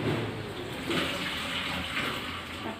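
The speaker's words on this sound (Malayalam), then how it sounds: "സ്ട്രെയിൻ ചെയ്ത് കളയാമെന്നാണ് ഞാൻ ഉദ്ദേശിച്ചത്" Water from cooked Maggi noodles pours steadily off through a strainer in a home kitchen, a continuous close gushing splash with no talk.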